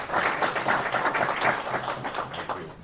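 An audience at a Display Week press breakfast claps steadily for a few seconds, dense and close, fading slightly at the end.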